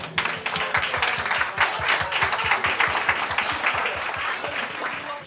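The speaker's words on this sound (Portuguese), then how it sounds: "todos merecem uma enorme salva de palmas" An audience gives a team a big round of applause at the Herdade dos Grous estate in Albernoa, with sustained clapping that carries a brisk, regular beat throughout.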